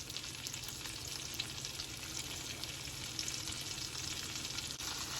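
Onions frying in butter in a pan for keto bacon jam, a steady dense sizzle with crackling that holds at an even level throughout, no voices.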